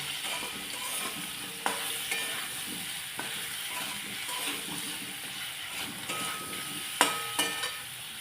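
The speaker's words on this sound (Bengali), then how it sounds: "এবার দিলাম এই যে হলুদ আর লঙ্কা গুঁড়ো, এইভাবে এবার ভেজে নেবেন।" Turmeric and chili powder frying in hot oil for a pointed gourd curry, a soft steady sizzle with occasional stirring clinks and taps close by, no talk.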